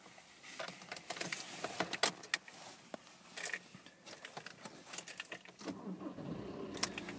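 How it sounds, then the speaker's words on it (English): Keys jangle and switches click, then an engine turns over and catches, settling into a low, steady rumble near the end. "looking at the dash whilst I start the vehicle"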